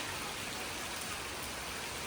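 Rain falls steadily outdoors around a house on a windy day, a soft, even patter of drops that stays faint and constant with no voices over it.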